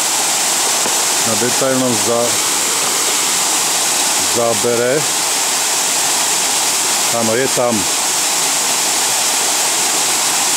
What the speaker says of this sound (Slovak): Tak tu je vodopád, vody je málo